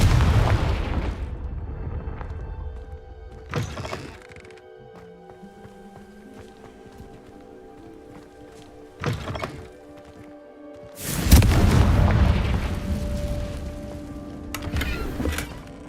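Confringo blasting spells detonate in Hogwarts Legacy as a few sharp, booming explosions spaced several seconds apart, with a quieter ringing tail between the blasts.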